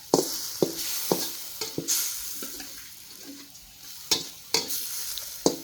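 Pork stir-fried with asparagus and mushrooms in a pan as beaten eggs go in, a steady soft sizzle broken by sharp scraping stirs and clanks of the spatula, close by with no talking.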